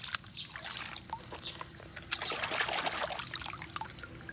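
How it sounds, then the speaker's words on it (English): Water trickles and splashes close by, building into a fuller pour midway before tapering off, with no talking. "I have to put some water first."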